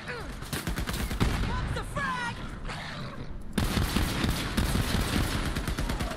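Rapid bursts of automatic gunfire from the player's weapon in the shooter game Borderlands 3, loud and dense, rattling almost continuously with a brief lull midway before resuming at full intensity.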